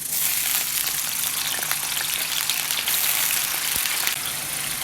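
Potato pieces frying in coconut oil in a pan, a steady broadband sizzle with a faint crackle holding at an even level throughout, no voices over it.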